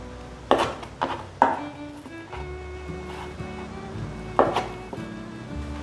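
Knife cutting tofu skin into chunks on a board: three sharp chops in quick succession, a pause, then one more chop, close and distinct over low kitchen background.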